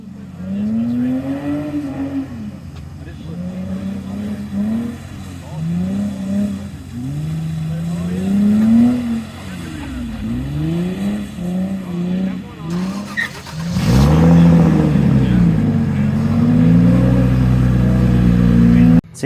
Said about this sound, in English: Kasey Kohl is driving his car so hard. He is fighting it.